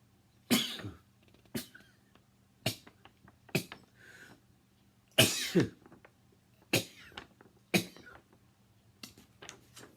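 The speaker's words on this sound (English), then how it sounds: "As I sneeze." A series of sharp, explosive bursts, about eight across the stretch, like sneezes and coughs, each sudden and loud with quiet gaps between.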